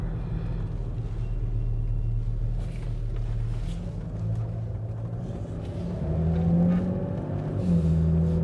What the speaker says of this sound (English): I still feel like I have a hole in the exhaust somewhere.